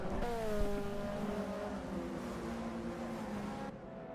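Touring race cars in a BTCC-style racing video game at Brands Hatch Indy drone through a corner, several engines layered with falling pitch as they slow, steady and fairly loud.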